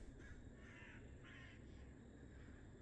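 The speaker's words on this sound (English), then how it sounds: "that haunting sound of like the crows in the background" Crows caw in the background of the video game Arknights, a few drawn-out, haunting calls rising faintly above a steady low ambient drone.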